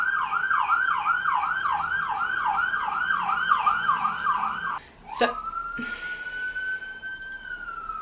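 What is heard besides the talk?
police car siren passing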